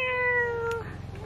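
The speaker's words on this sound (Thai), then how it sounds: "แมวอยู่ข้างในนะคะ" A close cat meows once in a long, clear, tonal call that fades off, with a second softer meow at the end, indoors at a countryside temple in rural Japan.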